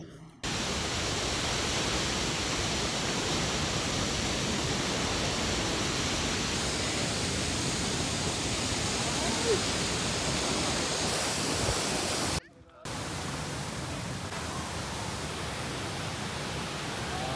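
Rushing water at Hogenakkal waterfall fills the air with a loud, steady roar that barely changes, briefly cutting out near the end before resuming.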